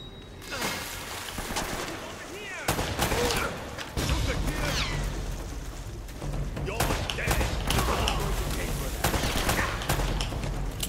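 Rapid bursts of gunfire rattle through a firefight in Uncharted: Drake's Fortune, loud and close, with repeated volleys, thumps and mechanical clatter over a busy background and some speech mixed in.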